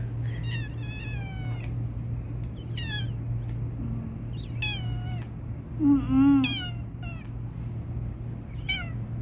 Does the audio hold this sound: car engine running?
no